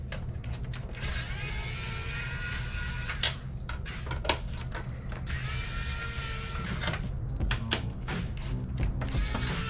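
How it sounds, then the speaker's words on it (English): A small driver with a Torx T10 bit works screws out of an Xbox 360 Slim casing, making close, soft mechanical whirring in two longer stretches, mixed with clicks and plastic handling noise, with no talk. "We already have our Fast Tech T10 bit in our kit, which we're gonna use to remove these screws."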